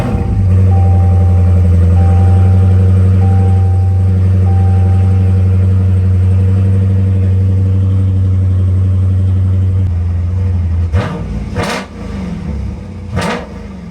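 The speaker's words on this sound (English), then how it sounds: "We are good to start the vehicle" A Dodge Scat Pack engine runs at a loud, steady idle with a deep droning hum that holds for several seconds, then cuts out and gives way to a few short, sharp bursts.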